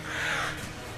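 A bird boss gives a single harsh caw in Enter the Gungeon, a short, loud, raspy call heard on its own.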